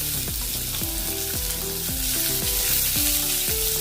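Onions sizzle and crackle loudly in hot ghee with cumin seeds, a dense continuous frying hiss with repeated clattering stirs from a close pan, no voices.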